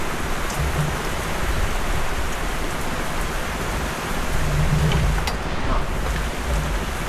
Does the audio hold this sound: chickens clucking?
no